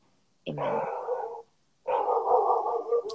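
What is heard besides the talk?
dog barking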